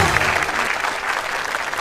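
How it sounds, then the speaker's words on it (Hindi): Studio audience applause on a television comedy talk show, a short burst of steady, dense clapping from a crowd, fairly loud, with no speech over it. "जोरदार तालियां रेखा जी के लिए।"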